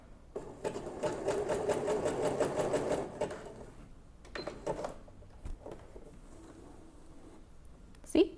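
A sewing machine runs a wider stitch for about three seconds, a steady fast rhythmic whirring, then stops; scattered clicks and handling noises follow in a quiet room.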